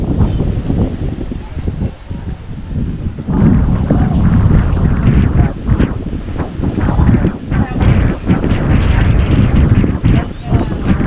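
Strong wind buffets the microphone in continuous gusty roars, loud and close throughout.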